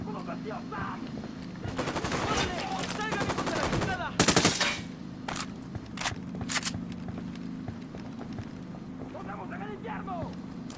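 Gunfire in the video game Ghost Recon Wildlands, with rapid bursts of automatic fire and single loud shots over a steady engine-like drone, while voices shout in between.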